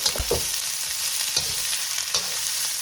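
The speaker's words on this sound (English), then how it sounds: "And now quickly we'll stir fry it." Black pepper chicken with onion is stir-fried in a hot pan, giving a loud, steady sizzle with a few scraping stirs of the spatula, close up and with no talking.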